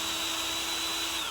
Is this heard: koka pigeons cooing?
no